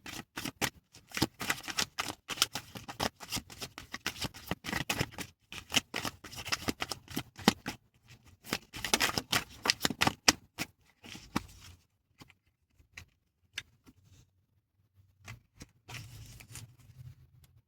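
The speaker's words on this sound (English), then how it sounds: "Let's pull one more card, and then that'll complete this reading for today." Tarot cards being shuffled for a card reading, a long run of quick, dense riffling and flapping that gives way to sparser, softer handling of the deck. Quiet and close, with no speech.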